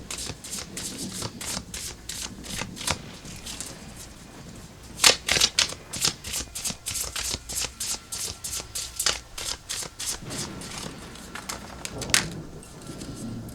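A Moonology Oracle card deck being shuffled by hand, a steady run of quick papery riffles and flicks, close and moderately quiet, with a few louder bursts in the rapid rhythm.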